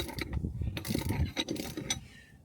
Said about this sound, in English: Feeling lazy today, so a lot of breaker bar action.